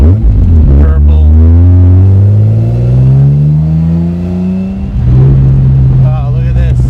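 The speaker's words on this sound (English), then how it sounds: "Got a great exhaust note" A loud exhaust from a 1956 Jaguar XKSS recreation by Lynx roars up through the gears on back roads, its pitch rising and falling with each shift, close and dominant throughout.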